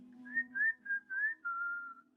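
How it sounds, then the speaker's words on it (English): A person whistles a short tune of about five clear, separate notes, the last one held longer, alone and close with faint background hum. "Can you do the whistle?"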